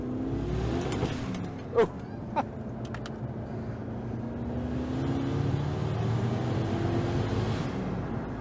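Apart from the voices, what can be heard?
V8 car engine accelerating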